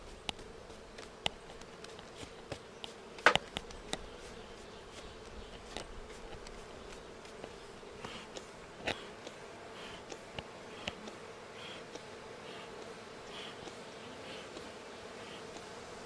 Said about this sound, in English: I'm going to smoke these bees pretty hard